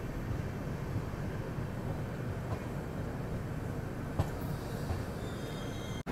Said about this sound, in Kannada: ಹಜೂರ್ ಸಾಹೇಬ್ ನಾಂದೇಡ್ ಎಕ್ಸ್ಪ್ರೆಸ್ ಈಗ ಬಂದೈತ್ರಿ ಯಾದಗಿರಿಗೆ